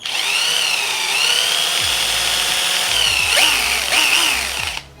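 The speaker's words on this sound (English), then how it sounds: "And I do have a cordless drill, so let me actually take it out to see what actually works" Cordless drill spinning a titanium step drill bit, a steady high whine running almost five seconds with small pitch dips and brief low knocks of the bit engaging, loud and close, then cutting off at the end.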